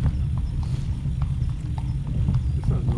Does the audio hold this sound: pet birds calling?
no